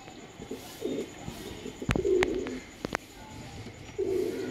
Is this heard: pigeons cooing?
yes